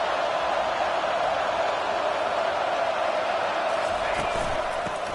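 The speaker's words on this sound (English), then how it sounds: "This crowd, full throat, splitting the eardrums and letting them know it's going to be a long day." A stadium crowd roars at full throat in an NCAA college football video game, a loud, continuous wash of massed voices with faint claps and whoops rising near the end.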